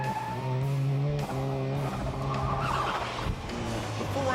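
A Datsun 510 driving a skid pad in a street-car competition, its engine holding a steady droning note while the tires squeal continuously through the long cornering run.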